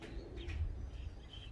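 Soft, low cooing of pigeons being fed close by, with a few faint chirps and flutters amid quiet outdoor ambience.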